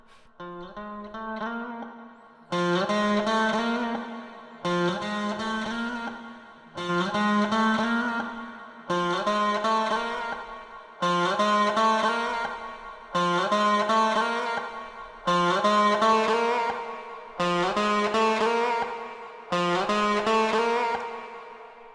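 Distorted electric guitar through Bitwig's Amp device, a riff of about nine sustained chords struck in an even rhythm, loud and thick with a brief quieter lead-in.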